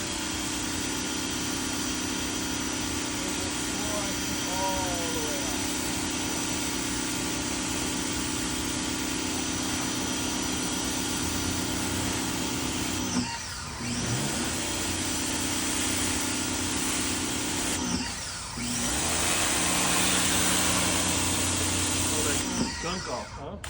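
A Greenworks 1900psi electric pressure washer sprays through its turbo swirl nozzle in a steady, continuous motor whine and water hiss. It runs for most of the stretch with two brief dips, and someone talks over it.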